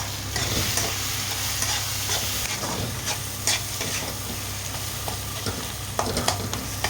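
Turmeric and chili powder are stirred into a frying mixture for chukkakura pachadi, giving a steady sizzle in the pan with scraping strokes of the spoon close by and no talking.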